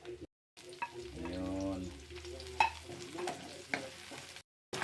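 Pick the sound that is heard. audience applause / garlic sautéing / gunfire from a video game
garlic sautéing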